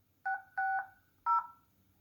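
Three electronic keypad tones from an Infinix Hot 10 Lite phone dialing voicemail, each beep short and clear, two in quick succession and a third after a brief pause, heard alone against a quiet background.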